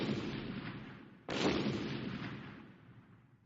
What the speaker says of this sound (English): Then I heard an explosion.